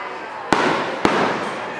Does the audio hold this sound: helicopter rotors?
no